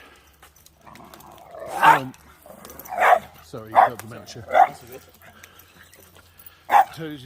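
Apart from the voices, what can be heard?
dogs barking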